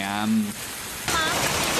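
Hail pelting down during a spring thunderstorm in the Taipei area: a dense, loud rushing clatter like heavy rain that takes over after a short voice at the start.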